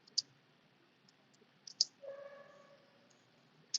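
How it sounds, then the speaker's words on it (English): Sharp computer mouse clicks, two close-spaced at the start and middle and one at the end, while building a circuit simulation in MATLAB Simscape; a faint tonal chime sounds briefly between them. "left clicking on empty space using your mouse"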